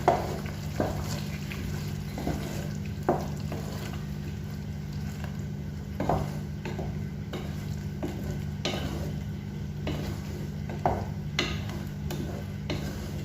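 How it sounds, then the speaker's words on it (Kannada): A spoon scrapes and stirs ground masala for mutton masala in a pan, with irregular clacks against the metal over a low steady hum and faint sizzling. "ಗ್ರೈಂಡ್ ಮಾಡಿದ ಮಸಾಲವನ್ನು ಸೇರಿಸ್ತಿದ್ದೇನೆ ಮಸಾಲವನ್ನು ಸೇರಿಸಿ ಚೆನ್ನಾಗಿ ಮಿಕ್ಸ್ ಮಾಡ್ಕೋಬೇಕು"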